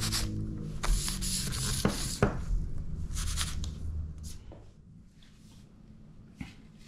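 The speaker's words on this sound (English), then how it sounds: "I think that's coming out pretty nice, just with some sandpaper." Sandpaper is rubbed by hand along the neck of a 1971 Precision Bass, giving close, repeated scratchy strokes in quick bursts that thin out and grow fainter toward the end.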